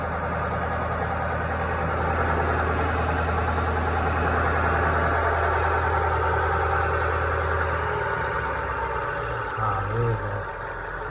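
A modded 2003 Toyota Celica GT with a new air filter idles outdoors, a close, steady engine drone with a low hum that drops away near the end as it is shut down.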